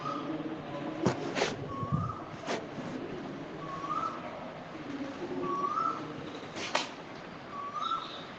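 An Asian koel calls repeatedly outdoors, its rising whistled notes spaced a few seconds apart at moderate distance, with a few sharp knocks and faint background noise between calls.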